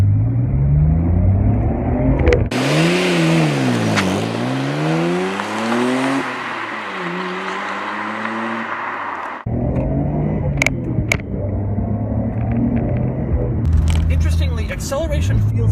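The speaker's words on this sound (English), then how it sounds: "For a 25-year-old car, acceleration is surprisingly strong." A 25-year-old Nissan Skyline GT-R, a Japanese sports car, accelerates hard from a low rumble through rising gear pulls. The engine is loud and close, with a voice heard around it.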